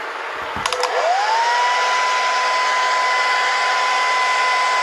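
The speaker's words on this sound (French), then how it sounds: "Tout simple, prenez un sèche-cheveux." A hair dryer clicks on, its motor whine climbing quickly to pitch, then blows with a loud, steady roar and no one speaking.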